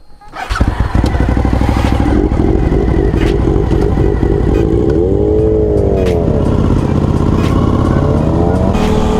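A nearby motorcycle engine idles with a steady throbbing rumble, then revs up and down in smooth rising and falling sweeps, loud and close throughout.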